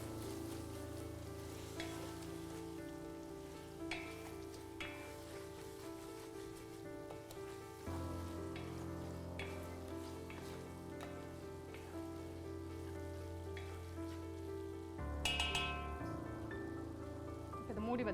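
A pot of chicken for Kongu-style biryani cooking in its own juices without added water gives a soft, steady sizzle and bubbling, quiet and continuous, with occasional light clinks.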